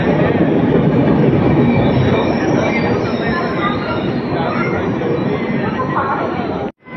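A Santragachi to MGR Chennai Central express pulls away from a station platform, a loud, sustained rumble of wheels and carriages that holds steady before cutting off abruptly near the end, with faint chatter in the background.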